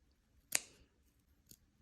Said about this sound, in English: just like with the smaller scissors, cut in between the fur and not all the way through.